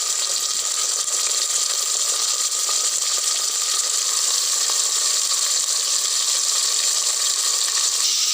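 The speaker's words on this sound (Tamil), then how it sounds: "நல்லா வணக்கி வச்சு இதில் சுத்தமாக கழுவி வச்ச சிக்கன் போட்டுக்கோங்க." Steady, loud sizzling of chicken frying in green masala in a pan for a Tamil-style green masala chicken curry, an even hiss running throughout without pause.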